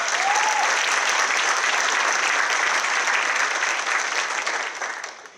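A crowd at a city state-of-the-city address applauds the police and fire department, a steady wash of many hands clapping at full strength before fading out near the end.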